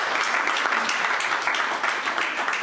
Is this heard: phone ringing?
no